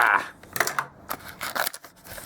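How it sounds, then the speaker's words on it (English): Scissors slice roughly through a cardboard box, producing a quick series of crunching, tearing snips at close range with short pauses between cuts. "Let's get the scissors out here"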